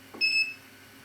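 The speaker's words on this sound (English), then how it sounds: "Press that until it makes that beep." An Ender 3 3D printer gives a single short electronic beep after its settings are stored. The tone is clear and steady but fairly quiet, and the room is otherwise quiet.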